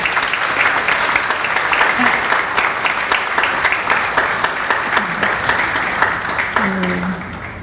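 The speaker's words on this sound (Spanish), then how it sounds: "con un fuerte aplauso te despedimos" At an educational innovation conference, the audience gives a strong, steady round of applause to send off a speaker, dense clapping holding for several seconds with a voice briefly audible underneath.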